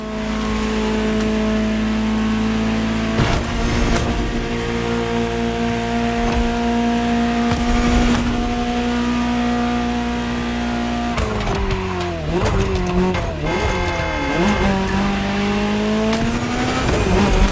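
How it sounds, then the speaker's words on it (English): A Ferrari GTO engine in the racing game The Crew Motorfest revs steadily and loud throughout, its pitch climbing and dropping through several sharp gear changes in the second half, with no voices. "just enjoy the collector's piece that is the Gran Turismo Omologato, or like Mr. Vignati Morano said, simply GTO"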